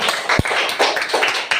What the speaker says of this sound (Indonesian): Ayo berikan tepuk tangan untuk kelompok visual.